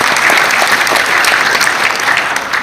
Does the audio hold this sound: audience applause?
yes